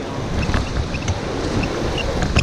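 Whitewater on a Ganges rapid near Rishikesh, heard from a raft. A dense, loud, continuous rush of churning water and wind buffeting dominates throughout, with no speech.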